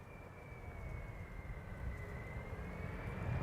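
An 18-year-old Airbus A330-300 airliner arriving on runway 18R Polderbaan at Amsterdam Schiphol in crosswind, a steady distant jet roar with a faint high engine whine, swelling slightly louder toward the end, no talk.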